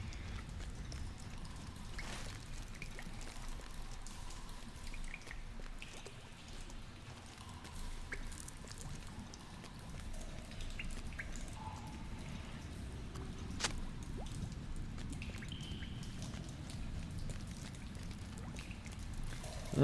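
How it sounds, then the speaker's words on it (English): Steady rain falling as ambient background in a fantasy online role-playing game, a soft continuous patter with occasional drips, faint and unbroken throughout. "it is so peaceful just with like the rain background noise"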